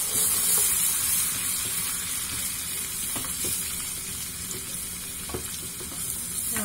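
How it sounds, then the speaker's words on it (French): Mint sizzles gently in melted butter in a pan, a steady soft crackling hiss with a few faint clicks, close but quiet, no talking. "on va mettre la menthe. Et on va la faire revenir dans ce beurre"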